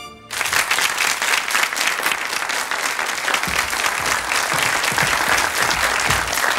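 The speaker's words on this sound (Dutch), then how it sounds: "Applaus." A television studio audience bursts into loud, sustained applause as the host of a Dutch TV show is introduced, with dense clapping that holds steady to the end.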